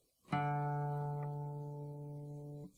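A guitar's fourth string is plucked once for tuning, and the single clear note rings on for more than two seconds before being muted, heard close with no voice over it.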